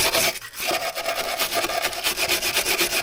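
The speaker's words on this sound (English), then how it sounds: "scrape off the rust" Steady, harsh scraping of rust from the cab surface of a Scania 143H V8 truck under restoration, a continuous gritty rasp with rhythmic strokes, loud and close.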